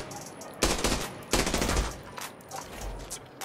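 Two rapid bursts of M4A1 rifle fire in the video game Arena Breakout crack out close by, followed by quieter scattered shots and game sounds.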